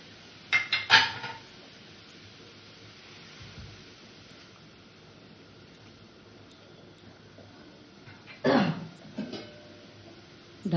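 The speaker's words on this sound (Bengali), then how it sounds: "ঢাকা দিয়ে দিলাম।" A metal lid set down on a cooking pot of fish on a gas stove, giving two short clattering knocks, one near the start and one near the end, with a quiet stretch of room noise between.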